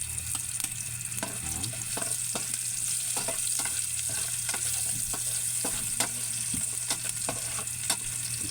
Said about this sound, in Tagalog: Hintayin natin maging golden brown yung ating bawang para lalong sumarap, bumango.